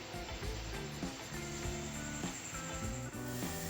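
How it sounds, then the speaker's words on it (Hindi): A chicken burger patty fries in a hot pan, giving a steady, close sizzle and crackle that stays even without pause, while background music plays alongside. "ये पैटी को हम फ्राई कर रहे हैं।"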